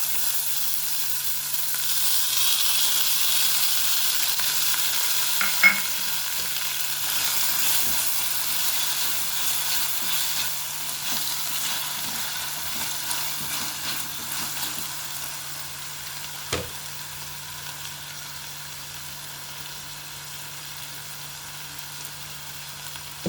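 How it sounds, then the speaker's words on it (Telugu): Soaked moong dal fries steadily in a pan for mango semiya pulihora, giving a continuous soft sizzle with a couple of brief clinks and no talking. "ఒక్క నిమిషం వేగించాలండి"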